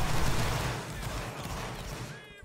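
A massed musket volley fired on command in a line-infantry battle video game, a dense rolling crash of many shots blending into one long rumbling roar that fades after about two seconds.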